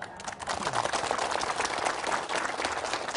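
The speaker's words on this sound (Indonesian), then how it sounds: "Tepuk tangan buat Ibu Reva." A studio audience on an Indonesian religious TV talk show claps for a guest named Ibu Reva, a brisk, loud burst of many hands that holds steady for about three seconds.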